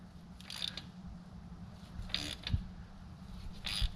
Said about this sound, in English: Let's get back to our regular ratchet here, because I sure don't want to break one of those.